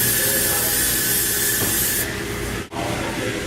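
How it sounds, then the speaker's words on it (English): A steady, loud hiss of vegetable oil cooking spray coats the top of bread dough in a bowl, continuous for a few seconds with a brief break near the end. "you're going to spray the top with some vegetable oil spray"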